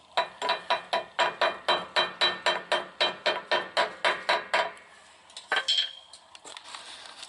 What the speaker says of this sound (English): go ahead and tap the yoke back onto the pinion flange